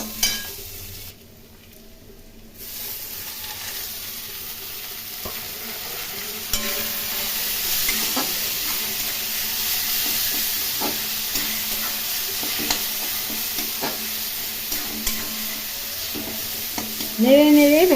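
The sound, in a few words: onions frying in a pan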